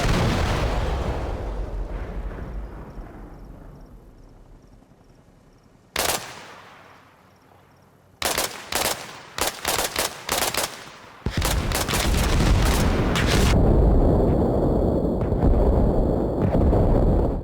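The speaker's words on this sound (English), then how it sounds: "don't them mortars just sound absolutely sick?" Mortar fire and explosions in ARMA Reforger: a long rumbling roar fades out, then a sharp blast, a burst of rapid heavy booms and cracks, and a loud sustained thunderous rumble, all close and powerful with no talk.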